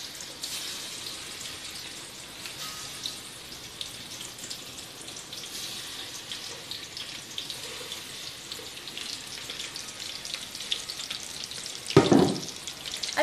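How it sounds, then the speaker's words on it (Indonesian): Chicken wings fry in hot oil with a steady crackling hiss, plus a brief louder burst of stirring or water near the end, and no one speaks. "saya akan goreng ayam ni dalam minyak yang dah panas"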